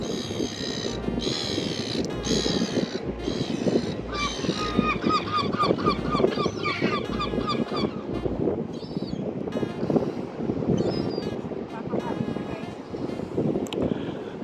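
Several birds being fed at New Brighton Pier in Christchurch honk and squawk in repeated calls against steady wind, with a low rhythmic thumping and a voice talking in the background.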